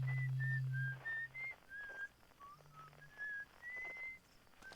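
Several clear whistled tones from the Outer Wilds video game drift up and down in a wandering tune, with short notes and gaps over a low steady hum.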